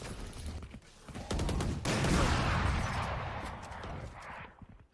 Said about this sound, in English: Couple of dueling operator shots.